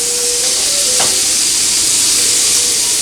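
Diced vegetables sauté in a hot pan, a loud steady sizzle and hiss that runs the whole time, with a brief stir or scrape partway through.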